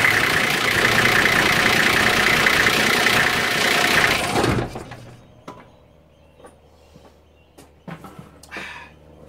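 A Nissan Patrol GR TD42 diesel engine idles loud and close for about four and a half seconds, then cuts off, leaving faint clicks and small knocks.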